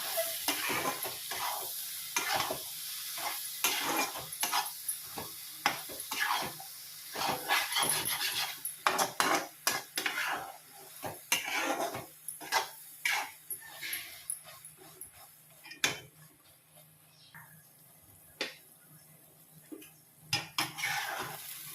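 Goat lung fry being stirred in a pan, with quick, close metallic scrapes and clinks of a spoon over a soft sizzle, coming in busy bursts and then thinning out.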